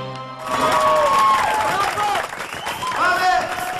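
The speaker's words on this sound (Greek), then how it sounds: "χειροκροτήστε την" A live audience at a 2007 concert claps and cheers, a loud burst of applause mixed with shouting and whooping voices that rises quickly and stays full.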